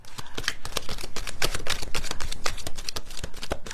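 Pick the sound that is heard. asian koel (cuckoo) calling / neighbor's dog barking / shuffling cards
shuffling cards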